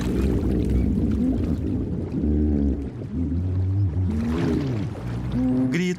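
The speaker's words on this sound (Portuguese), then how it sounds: "Gritos, grunhidos e estalidos, muito parecidos com os chamados de seus primos golfinhos, ressoam através do maxilar de um hipopótamo" Hippopotamus calling underwater in a Zambian river: low grunts and wavering, whale-like tonal screams, with some clicking, overlapping continuously, loud and close, with no voices.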